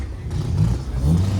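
A car engine revving at a Japanese car meet, a steady low droning rev that swells slightly, close and fairly loud throughout the short burst.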